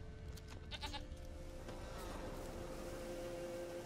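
A goat in The Witcher 3 bleats in a few short calls early on, set against a steady low ambient drone of game background sound.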